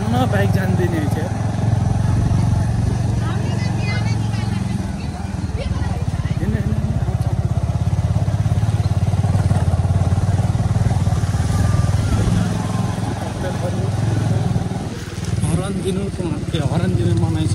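A motorcycle ridden on a mountain route in Upper Mustang, Nepal, drones loudly and steadily up close, its engine note rising and easing slightly over the ride, with wind rumble and occasional talk.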